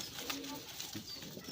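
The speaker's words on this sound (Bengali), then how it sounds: "বন্ধুরা এখানে একজোড়া কবুতর আছে" A pair of pigeons, one sitting on eggs, coo softly nearby in a brief, faint low murmur against quiet background.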